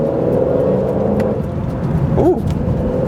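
Aston Martin DB12 sports car driving on the road, a steady loud engine and road drone throughout with a brief swelling whir near the end, heard from inside the car.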